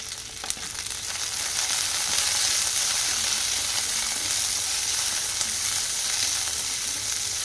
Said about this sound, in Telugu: వెల్లుల్లి ముక్కలు పచ్చిమిర్చి వేసుకొని ఫ్రై చేసుకోవాలి